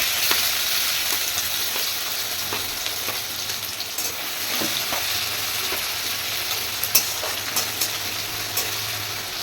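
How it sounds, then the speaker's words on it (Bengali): Onion fries in hot oil in a wok with a steady, close sizzle and occasional faint stirring clicks. "পেঁয়াজটা হালকা ভাজা করে নিই"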